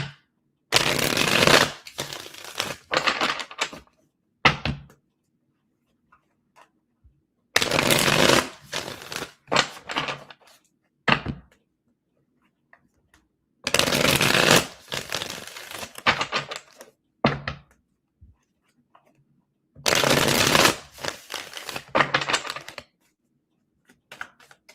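A tarot deck is shuffled by hand in repeated bursts, crisp riffling card flutters with short pauses between rounds, close and clear with no talk.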